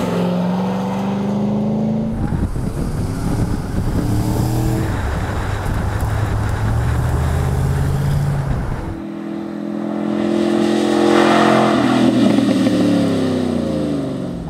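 A Chevrolet Camaro ZL1 convertible with a big engine accelerates hard, its rising engine note swelling in steady sweeps, dropping briefly, then climbing again loud and close, with no talk over it.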